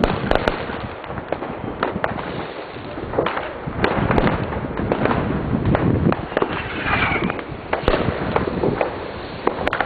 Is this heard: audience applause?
no